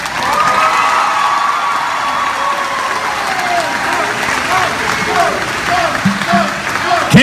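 A high school crowd at North HS bursts into loud, sustained applause and cheering, with clapping, whoops and shouts filling the space before tapering slightly near the end.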